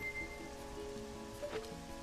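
Steady rain falling in the video game Majora's Mask, a continuous soft patter with game music tones layered over it and no talk.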